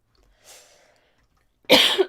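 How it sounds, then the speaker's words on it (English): A person coughs at a desk during a live work stream, first a faint breathy throat sound, then one loud, sharp burst of coughing close to the microphone near the end. "Sorry, I need to cough a little."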